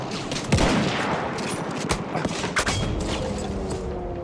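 Bursts of machine gun fire in a Battlefield 1 Conquest multiplayer match, a dense, steady clatter of rapid shots with a few sharper cracks, continuous through the whole stretch.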